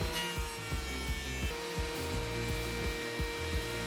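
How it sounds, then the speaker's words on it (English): Power sander working over rough wood boards for a raised planter box, a continuous buzzing grind with rhythmic rubbing strokes, fairly close and steady, without voices. "All you got to do is use a sander, and here's how we did that as an example."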